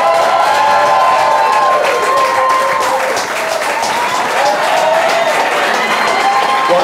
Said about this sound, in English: Big round of applause for David Comey!